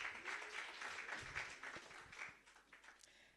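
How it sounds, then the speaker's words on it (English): A room full of people applauds a university team at a live moot competition, many hands clapping in a steady, even patter that thins slightly toward the end, heard alone at moderate distance. "A round of applause."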